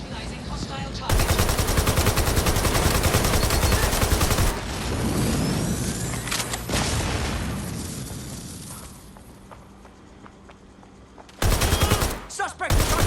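Automatic gunfire in the Watch Dogs: Legion video game, with long loud bursts of rapid shots near the start and another sharp burst near the end. Quieter game ambience and fading echoes fill the stretch in between.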